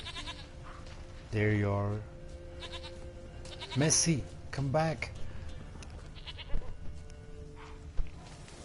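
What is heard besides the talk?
goat bleating in The Witcher video game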